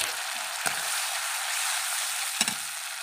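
Ginger-garlic paste and tomato paste sizzle in hot oil for an egg curry, a steady close hiss broken by two brief scraping stirs.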